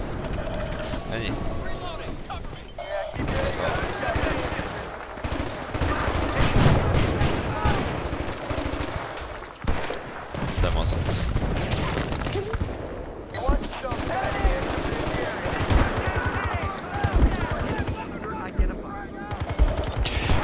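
Rapid bursts of automatic gunfire from the video game Battlefield: Bad Company 2, dense and loud, with scattered single shots and game effects filling the whole stretch.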